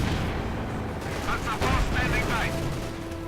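A German mortar in a video game battle fires repeatedly, its booms and crackling blasts rolling together under a commentator's voice.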